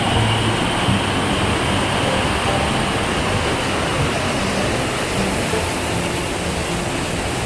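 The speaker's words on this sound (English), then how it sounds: "Took a short blue blaze to Little Niagara Falls." Little Niagara Falls on the Appalachian Trail in a wilderness forest roars with a steady, loud, unbroken rush of falling water heard close by.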